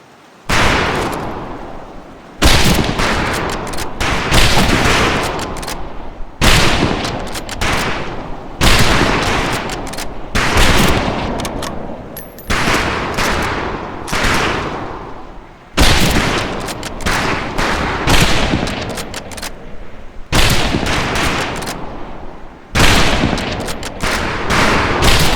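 Rifle volleys from several shooters in Medal of Honor Pacific Assault crack out in loud, broadband bursts, repeated roughly every two seconds with short pauses between salvos, no voices present.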